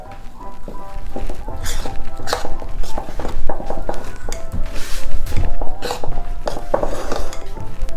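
Irish soda bread dough being mixed by hand in a bowl gives loud irregular knocks, scrapes and clatters of utensil against the bowl, continuous and close with no talking.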